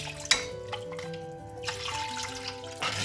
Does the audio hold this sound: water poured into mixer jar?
yes